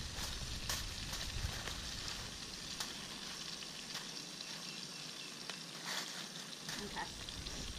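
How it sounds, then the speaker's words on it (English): Butter sizzles and splatters steadily in a cast iron pan over an outdoor fire pit, a close, continuous crackling hiss with occasional sharper pops. "There is a lot of butter in there, and that's going to make that splatter sound"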